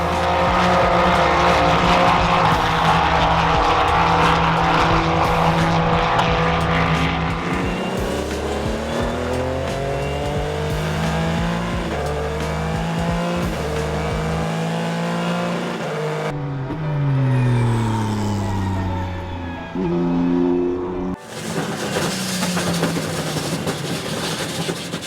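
An Acura DPi prototype race car at speed during the HSR Classic 24 at Daytona, its engine roaring loud and close with rising and falling pitch through gear changes, a sharp cut near the end before the high-revving howl resumes.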